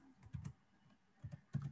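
Several quick, faint clicks on a computer keyboard come in two small clusters with a short pause between them, close by and with no talking.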